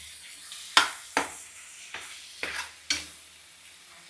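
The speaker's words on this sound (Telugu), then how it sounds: "ఆ మసాలా మొత్తం వేసేస్తున్నాను. కొంచెం వేపుకున్నాం, పచ్చివాసన పోతుంది." Ground raw green masala paste frying in a pan for a prawn curry, five sharp utensil strikes and scrapes that each trail off into a hiss, set over a faint steady sizzle with no voices.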